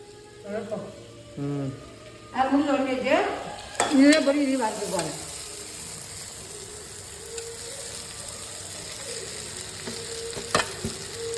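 Onions and coconut fry in a pan for a masala to be ground, a soft, low sizzle with light stirring that runs under brief talk early on and then continues faintly alone.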